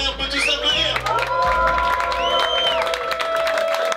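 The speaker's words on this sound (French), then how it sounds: "s'il vous plaît, on peut tous applaudir." A crowd at a large evening gathering of video creators applauds and cheers, clapping mixed with whoops and raised voices, while bright sliding tones and a low steady hum sound over the noisy room.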